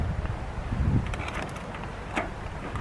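Steady wind buffets the microphone with a low, rumbling roar, gusting a little stronger around the middle, with no voices.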